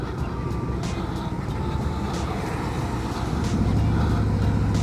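A 2024 Harley-Davidson Road Glide 3 motorcycle engine drones loud and steady while riding, a low rumbling note with heavy wind roar that swells slightly near the end.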